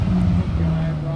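A naturally aspirated Ferrari 458 Italia at a cars and coffee meet hums with a loud, low, steady engine drone close by, with a brief dip partway through.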